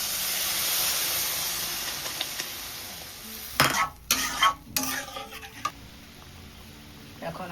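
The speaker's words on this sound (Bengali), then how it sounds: "এখন আমি ঝোল দিয়ে দিই।" Fish curry gravy meets a hot pan with masala, a few sharp bursts of sizzling and clattering after a quiet simmering hiss, fading back to a low bubble.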